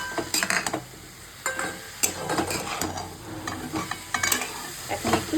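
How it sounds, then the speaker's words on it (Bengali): Chickpea greens being stirred in a pan with radhuni and ginger paste, a busy close scraping of the spoon over a soft sizzle, with irregular clicks and knocks throughout and no voices. "এখন রাঁধুনি আর আদা বাটাটা দিয়ে দেবো। ভালো করে মিক্স করে নেবো।"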